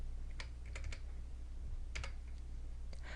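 Computer keyboard being typed on while entering distance values into SketchUp-style 3D modeling software, a few quick clustered keystrokes over a steady background hum.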